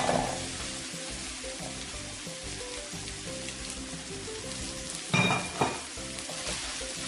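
White rice with pepper being stirred in a frying pan for nasi cikur, a steady sizzle throughout with a louder scraping burst near the end; no talking.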